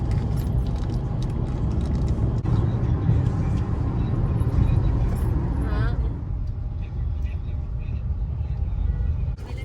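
Idling and creeping vehicles in a traffic jam in Ranjangaon make a low, constant engine rumble, with a brief brake hiss and scattered rattles; people talk over the din.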